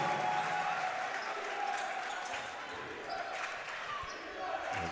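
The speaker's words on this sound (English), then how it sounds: "Home crowd is liking it." Home crowd at an NCAA Division III men's college basketball game cheering and applauding in a gym, a dense steady roar over a sustained tone, with a commentator talking over it.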